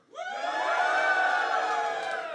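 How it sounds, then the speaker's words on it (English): A live audience cheers and whoops for Scottish Labour, a sudden swell of many voices that rises quickly and holds loud and steady for about two seconds, with little distinct clapping. "applaud or cheer if you like this"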